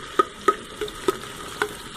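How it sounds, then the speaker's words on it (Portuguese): Garlic and onion sautéing in a pan on high heat, stirred with a small spoon: five sharp utensil scrapes in a steady rhythm over a soft sizzle. "Vou botar o alho pra refogar."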